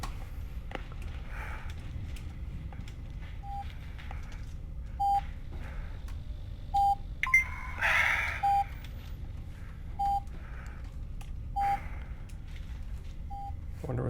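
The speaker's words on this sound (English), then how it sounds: "I wonder what that beeping is." In the video game Chasmal Fear, short electronic beeps repeat at steady intervals, roughly every one and a half seconds, over a low background hum with a brief burst of noise midway.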